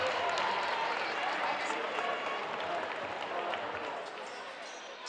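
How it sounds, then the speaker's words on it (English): Large crowd applauding the Senate League girls' basketball All-Stars at a championship game, a dense, steady roar of clapping and cheering throughout, loud and close, fading slightly toward the end. "let's hear a nice big round of applause for all of your Senate League"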